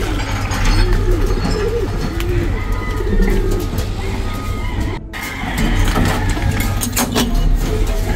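Racing pigeons coo in low, throaty bursts close by, with a car or engine rumbling in the background. The cooing repeats through the stretch with a brief dropout midway, and no one talks over it.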